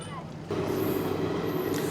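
Interior of the 22953 Gujarat Superfast Express AC chair car running from Vadodara toward Ahmedabad: a steady rumbling ride noise that jumps louder and fuller midway, with a faint high whine above, no talk.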